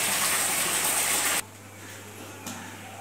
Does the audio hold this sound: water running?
yes